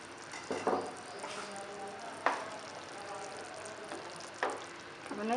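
Masala for a chickpea curry sizzles steadily in a pan, a close, even hiss broken by several sharp spatula scrapes and knocks spaced a second or two apart.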